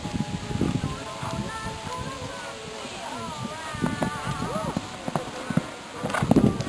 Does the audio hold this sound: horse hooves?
yes